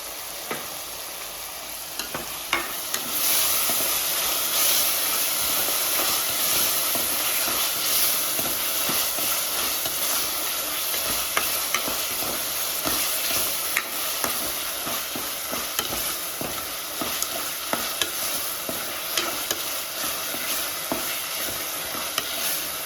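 Ginger garlic paste, about two tablespoons, frying in a home kitchen pan with a steady hiss and sizzle, punctuated by scraping and clicking stirring strokes throughout, no talking.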